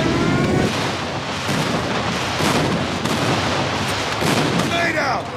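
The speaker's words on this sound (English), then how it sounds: "Friendly airstrike incoming." Heavy booming blasts from an airstrike in Call of Duty Mobile, loud rolling explosions layered with scattered gunfire, continuous through the moment with a brief quieter gap near the start.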